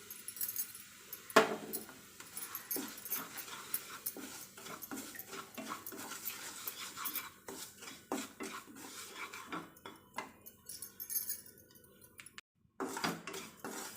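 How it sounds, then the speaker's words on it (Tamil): Semolina (rava) being roasted in a pan while making jackfruit kesari, with a utensil repeatedly scraping and clinking against the pan in quick irregular strokes, close and fairly loud. "இப்போ இந்த பேன்லேயே நம்ம எடுத்து வச்சிருக்கிற ரவையை வறுத்துக்கலாம்"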